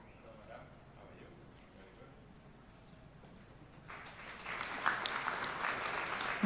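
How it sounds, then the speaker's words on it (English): At a Taxpayers Day 2024 awards ceremony in Kenya, a voice on a public address speaks over quiet room noise. A burst of audience applause then swells up and carries on loudly to the end. "A round of applause for the NIS."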